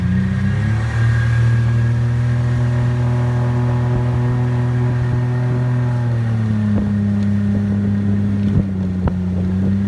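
A boat's outboard engine runs during its break-in at about half throttle: a loud, steady close-up drone with wind noise, easing slightly lower in pitch partway through.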